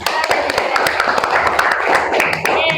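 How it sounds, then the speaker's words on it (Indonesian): A classroom gives a round of applause for a student at the end of a maths lesson, a dense, brisk patter of many hands clapping close by for a few seconds. "Berikan tepuk tangan buat Lisa."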